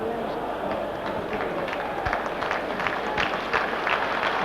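Stadium crowd at a Milan versus Real Madrid European Cup semifinal applauding as Ruud Gullit is substituted off, a steady broad wash of clapping and crowd noise throughout with a commentator talking over it.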